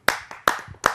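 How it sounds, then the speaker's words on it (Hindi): Three sharp, loud hand claps ring out at a televised Hindi poetry gathering, evenly spaced about 0.4 seconds apart, close and crisp with brief room decay after each. "आप सबकी जोरदार तालियों।"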